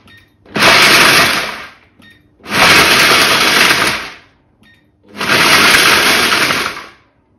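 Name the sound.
Kenwood Cooking Chef processor pulsing to grind nuts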